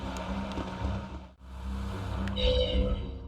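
A cat meows in Tales of Berseria, a short high plaintive call or two over a low rumbling game background, moderately loud, with no talk.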